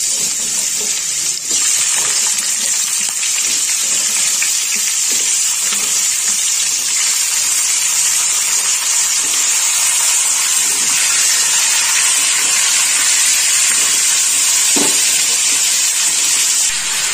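Vegetables hit hot oil tempered with mustard seeds and dry red chillies for a sesame-tamarind sour dish, setting off a loud, continuous close hiss that holds steady throughout with no talk.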